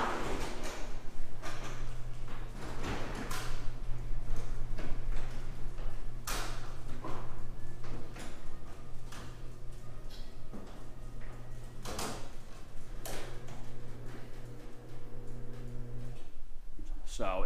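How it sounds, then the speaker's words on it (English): A garage door on a high-lift ceiling track in an 11-foot-ceiling garage rumbles along with a steady mechanical hum, punctuated by clunks and rattles as the panels roll overhead. "let me just go ahead and cycle the door"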